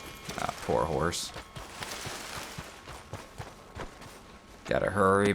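A horse in the Red Dead Redemption 2 game snorts and whinnies, with hoof clops and scuffling between the calls, up close and fairly loud, and someone speaks over part of it.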